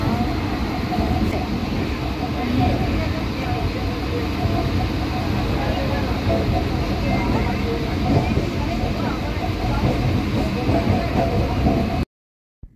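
Train running on rails, a steady dense rumble and rattle filling the space for about twelve seconds, with voices talking faintly underneath, then cutting off abruptly.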